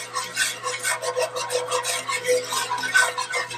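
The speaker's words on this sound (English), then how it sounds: "Now, while you're stirring, make sure that you get in the corners and keep it moving, or else it will scorch." A spoon scrapes and rubs steadily around a pan of creamed peas and potatoes in a thick butter sauce, a close, continuous rasping stir with rhythmic strokes and no talking.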